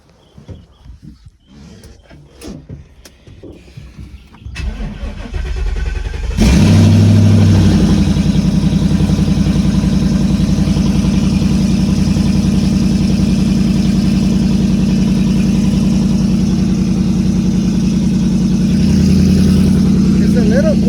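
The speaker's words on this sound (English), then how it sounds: "First starting this thing with mufflers, with glass packs" A Ford Mustang GT S550 fitted with glass pack mufflers starts with a sudden loud roar, then settles into a deep, steady, rumbling idle that runs on. Quiet talking and handling noises come before the start.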